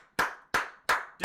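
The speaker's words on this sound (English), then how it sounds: "I will clap them, man" A lone person claps close to the microphone in three evenly spaced, sharp claps with a fourth starting, in a quiet room after a Canada World Cup match against Morocco.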